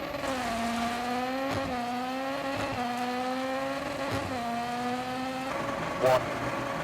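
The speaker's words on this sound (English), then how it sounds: "I love how the cars sound in this game" A rally car engine in the video game EA WRC 24 drones continuously, revving up and dropping as gears shift, loud and steady with a brief sharp noise near the end.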